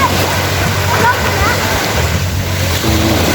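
Sea waves at a beach, with a steady wash of surf and wind buffeting the microphone that runs throughout without pause.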